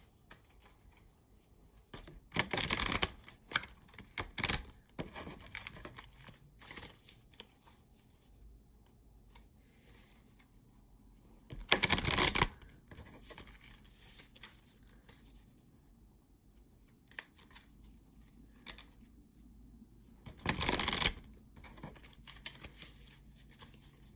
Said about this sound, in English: I'm going to pull 2 cards from this stack